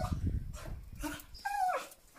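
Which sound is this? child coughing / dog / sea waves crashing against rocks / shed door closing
dog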